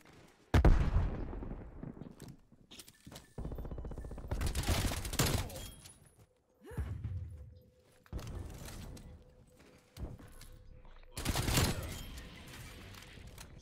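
Automated sentry gun fire in the video game Call of Duty Cold War, several loud bursts of rapid gunshots separated by short pauses, close and punchy, alongside other in-game battle noise.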